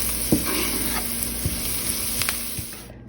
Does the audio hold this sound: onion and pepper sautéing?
yes